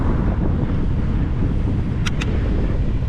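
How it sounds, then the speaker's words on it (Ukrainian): Steady, loud wind buffets the microphone while riding a bicycle through a city, a constant low roar that covers everything, broken only by two quick faint clicks near the end. "з вітром не повезло"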